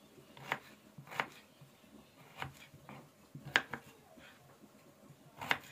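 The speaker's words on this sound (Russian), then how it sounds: "Редисочку мы нарезаем такими вот четверть кольцами." A knife slices radish into quarter rings for a spring salad, with about half a dozen quiet, separate taps against a cutting board at an uneven pace.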